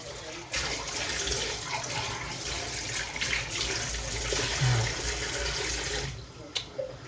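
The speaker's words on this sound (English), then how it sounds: "Right, so I've got to get the bowl out again. Let's give that a little wash." Tap water running steadily into a kitchen sink as a bowl is rinsed, a close, even rush of water that stops abruptly near the end, followed by a couple of light knocks.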